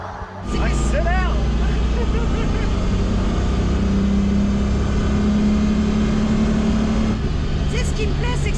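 A custom BMW E30 330i Rocket Bunny build has its engine held at a loud, steady drone close by, with a rising tonal whine partway through and a voice speaking briefly near the start.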